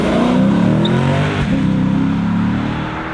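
A Lexus GS F with a naturally aspirated, high-revving engine climbs through the revs, a loud, close, continuous engine note rising in pitch with a brief dip midway.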